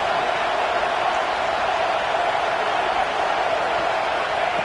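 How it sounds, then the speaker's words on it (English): A college football stadium crowd roars in a sustained, dense wall of noise to urge on the defense before a red zone stop, steady and loud throughout. "And here comes the noise. This crowd is trying to inspire this defense to make a big red zone stop."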